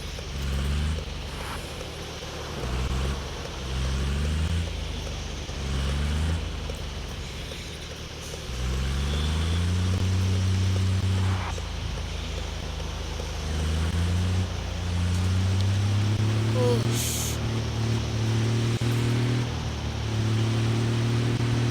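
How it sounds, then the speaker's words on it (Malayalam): A new car climbs a steep off-road hill track, its engine droning and rising in pitch through repeated surges as the revs climb and ease, with wind and rough-ground noise underneath and no talk. "ഈസി ആയിട്ട് വണ്ടി കയറിട്ടോ."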